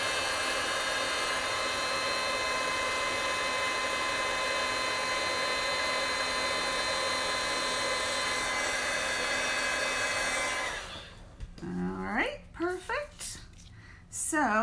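Heat tool blows a loud, steady whooshing hum while melting white embossing powder on a card, running for about ten seconds before cutting off and giving way to a person talking.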